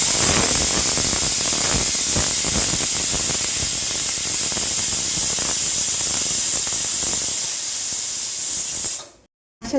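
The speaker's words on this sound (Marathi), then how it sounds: "झाकण लावून 4 शिट्ट्या घ्यायच्या व्यवस्थित." Pressure cooker whistling steam while cooking chickpeas, a loud, continuous, hissing jet of steam with rattling flutter that cuts off abruptly near the end.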